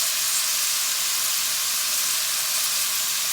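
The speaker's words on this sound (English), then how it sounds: "we're going to saute this for about a minute" Beef seasoned with black pepper and salt sautés in a pan, giving a steady, even sizzle that holds without a break.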